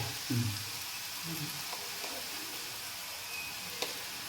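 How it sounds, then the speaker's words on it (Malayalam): Kashmiri chili powder sizzling gently in oil over a low flame, a faint steady hiss with a few soft stirring knocks and a small clink near the end, quiet and close. "ഇത് ചെറുതായിട്ട് സിമ്മൊക്കെ ഒന്ന് ആക്കി മുളക് പൊടി ഇടുകയാണ്"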